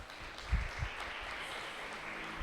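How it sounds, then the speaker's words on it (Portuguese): A church audience claps for a woman who has just answered a question during a Portuguese-language sermon, a soft, somewhat distant patter of applause with a few louder low thumps near the start. "Aplaude aí, gente."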